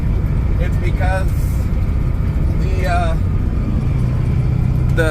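A 7.3 Power Stroke diesel truck towing a 1928 Oldsmobile racecar gives a steady, loud low-pitched engine drone with road noise. Someone talks over it in several short stretches.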